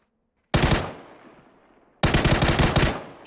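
Two loud bursts of rapid automatic gunfire in a shooter video game, the first fading into a trailing echo before a second, longer burst follows about a second and a half later.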